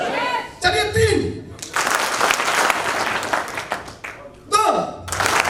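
An audience at a motivational seminar claps on cue in short, loud bursts separated by pauses, with a voice speaking between the rounds of applause.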